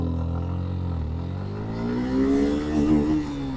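A 2025 Suzuki Gixxer SF sports motorcycle engine revs up steadily, its pitch climbing as it accelerates hard in first gear, loud and close with no talking.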